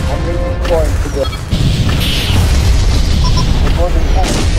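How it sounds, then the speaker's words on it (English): A Gorgon cannon blows up in the space combat game Freespace 2, heard as heavy booming explosion noise with sharp bursts, loud and continuous over a low rumbling bed, with brief synthetic chirps and a voice speaking. "The Gorgon cannon has been destroyed."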